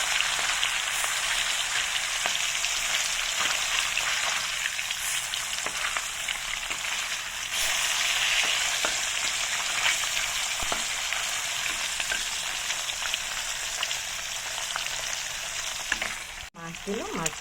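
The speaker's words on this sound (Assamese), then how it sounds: "মাছখিনি এতিয়া অলৰেডি ফ্ৰাই হৈছে আৰু লাহে লাহে মাছ ফ্ৰাই হৈ গৈছে।" Fish pieces sizzle steadily in hot oil in a wok, a dense, close crackle with small pops throughout, ending with a brief utensil clunk.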